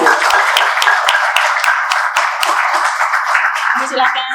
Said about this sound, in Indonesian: Mari kita berikan tepukan yang gemuruh.